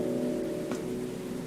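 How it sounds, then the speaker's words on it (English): Heavy rain in the video game Coffee Talk hisses steadily as a dense, even wash with a low tonal drone beneath it, with no voices. "The first time I was here, it was raining as hard as it is now."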